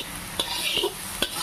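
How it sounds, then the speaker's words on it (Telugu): Green chillies fry in a pan with a steady, close sizzle, broken by a few brief scrapes and clinks as a utensil stirs them. No voices. "అప్పుడు దాకా మనం ఫ్రై చేద్దాం."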